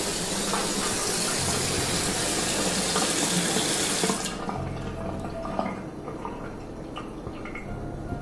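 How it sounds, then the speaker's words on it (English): Water runs steadily from a tap, a dense hiss that stops abruptly partway through, leaving quieter dripping and trickling. "The water just came on."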